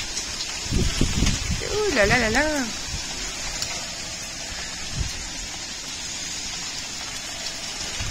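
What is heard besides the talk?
heavy rain with strong wind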